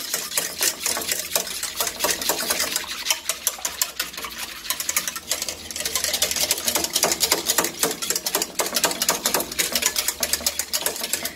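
Cake ingredients are mixed in a bowl at a steady quick pace, producing a continuous close clatter and scraping that rises and falls without pause, with no voices.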